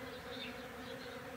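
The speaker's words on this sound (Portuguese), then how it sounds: "Haja bastante abelhas, muitas abelhas." Bees buzz steadily and densely, a continuous close-up drone of many insects that holds without a break and with no voices.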